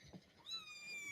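A cat meows once in a thin, rising then sustained tone, fairly faint against a quiet indoor background.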